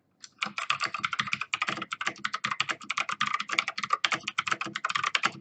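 A mechanical keyboard with clicky blue switches types in fast, irregular bursts of sharp, crisp clicks, close and alone, running nearly without pause.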